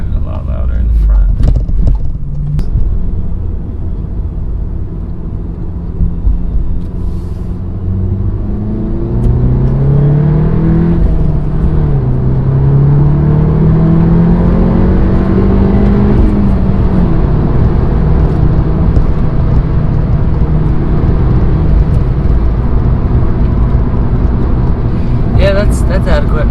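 Volkswagen Golf R hot hatch engine revving while driving, heard from inside the cabin as a steady loud rumble with rising and falling pitch sweeps, under ongoing conversation.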